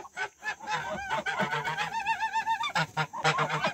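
A goose honks repeatedly at close range beside a nesting duck on a farm, loud nasal calls in quick bursts with a few lower grunting notes between them.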